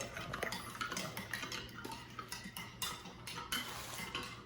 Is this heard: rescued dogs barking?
no